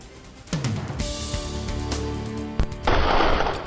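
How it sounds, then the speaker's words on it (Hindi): Gunfire on the streets of Port-au-Prince, Haiti, during unrest: a dense, noisy burst of shots and sharp cracks over a low rumble, with a loud final volley, heard from a distance amid street noise. "जहां सड़कों पर गोलियां दागी जा रही हैं"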